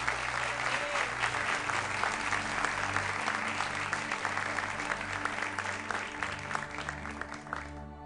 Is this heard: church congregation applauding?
yes